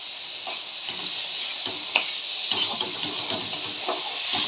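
Red amaranth greens in poppy-almond paste are stirred after a drizzle of raw mustard oil, with a soft, continuous cooking hiss and light scraping taps throughout.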